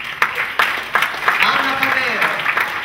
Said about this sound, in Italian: Un applauso per Maurizio Misceo